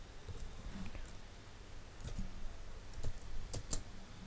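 Keys on a computer keyboard tap out a short DOS mount command, quiet and close, in a few uneven bursts of clicks with a sharper pair near the end.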